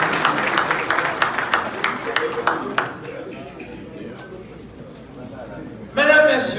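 Applause for the dean of a law faculty at a formal academic ceremony, a burst of sharp claps at first that thins into scattered clapping and crowd murmur, with a brief louder flurry near the end.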